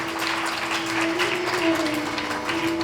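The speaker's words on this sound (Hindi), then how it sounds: "जोरदार तालियों से स्वागत करें।" An audience breaks into loud, sustained applause at a Raksha Bandhan spiritual gathering at an ashram in Chitrakoot, a dense, even wash of clapping lasting a few seconds.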